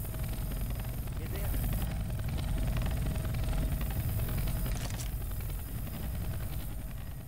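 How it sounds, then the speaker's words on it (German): Helicopter in the zombie video game Left 4 Dead 2, a steady broadband rotor and engine drone running throughout under game noise, with people talking over it. "Da ist ein Heli."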